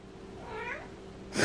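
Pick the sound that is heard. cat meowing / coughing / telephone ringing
cat meowing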